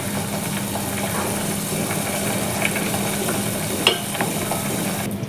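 Pitha being stirred in sugar syrup, a continuous low bubbling hiss with a soft hum beneath and a sharp utensil click near the end, no talking.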